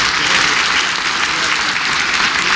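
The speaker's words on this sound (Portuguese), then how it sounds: "queria pedir uma salva de palmas de pé para o meu presidente" A congress crowd gives the Brazilian president a standing ovation, a loud, dense wash of clapping that holds steady throughout the short stretch.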